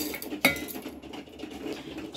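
Garlic, ginger and green chillies tipped into a pan of roasted hemp seeds: one sharp clink near the start, then a low, quiet rustle of the pan settling.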